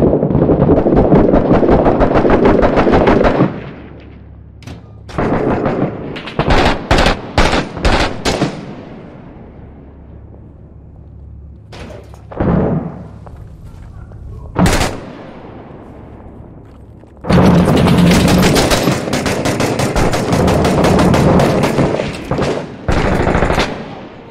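Gunfire in the military shooter Six Days in Fallujah during the Second Battle of Fallujah: loud sustained automatic bursts, then a stretch of sharp scattered single shots and thuds, and a final heavy rattling volley.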